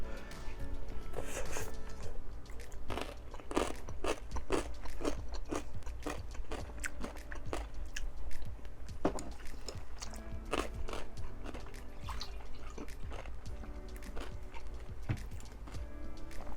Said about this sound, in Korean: 연골 부분 씹는 소리 들리나요?